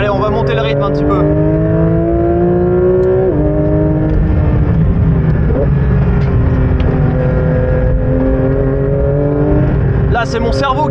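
A Porsche 911 GT3 race car accelerates hard around a track, its engine note climbing steeply with a gear change partway through, then pulling on at high revs with a loud, continuous roar.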